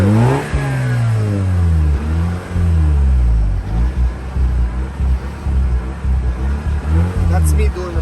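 A Mazda RX-8 rotary engine, flooded and hard to start, is revved repeatedly with the accelerator, giving loud, close, rising and falling engine sweeps in an uneven rhythm.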